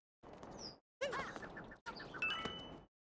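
Chirpy bird calls in Super Mario Odyssey, a few short bright tweets and trills in three bursts over busy game sound, fairly faint.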